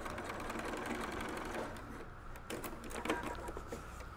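A sewing machine runs steadily as it stitches the seam of a reusable fabric snack bag, a continuous close mechanical whir with a brief dip midway before it resumes.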